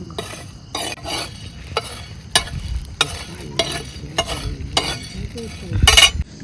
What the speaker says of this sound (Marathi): हरभऱ्याची डाळ आहे भाजून घेते मित्रांनो.